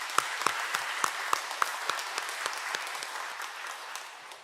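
A church congregation bursts into applause during a Sunday worship service, with loud, sharp individual claps standing out over a steady, dense crowd clapping that fades slightly toward the end.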